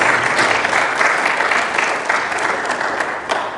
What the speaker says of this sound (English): So that's hand clapping